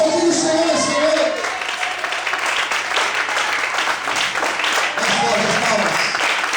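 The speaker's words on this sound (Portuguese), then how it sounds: "Quantos podem aplaudir o Senhor essa noite?" A church congregation claps together after being invited to praise, dense sustained applause filling the room with voices and cheers mixed in throughout.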